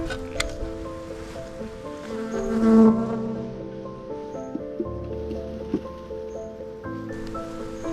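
Honeybees swarm around a hive lifted out of a chimney, giving a continuous close buzzing drone with shifting pitch and occasional louder swells.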